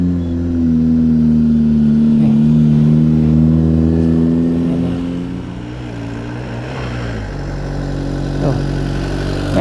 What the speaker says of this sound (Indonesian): mobil yang nanjak.